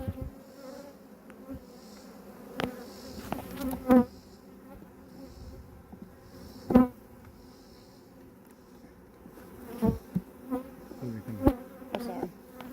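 Bees buzz in a steady, close hum around a backyard beehive, with occasional soft knocks and thumps rising above the drone.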